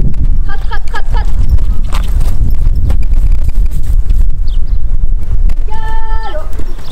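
A horse galloping on command during liberty work, hoofbeats drumming steadily and close over wind noise, while a person calls commands and short voiced cues cut in.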